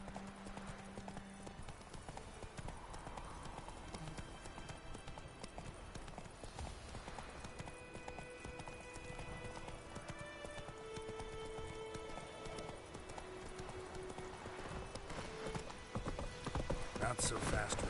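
The horse Roach clip-clops at a steady trot in the Witcher 3 video game, the hooves rhythmic under game ambience, music and a voice talking.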